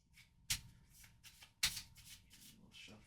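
Deck of board game loot cards being shuffled by hand up close, a series of quiet papery riffles and snaps with two sharper slaps, soft and intimate in a quiet room.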